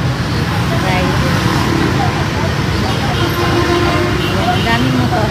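Busy street traffic in Vietnam with many motorbikes, a steady dense roar of engines and road noise with a passing horn toot and background crowd chatter throughout.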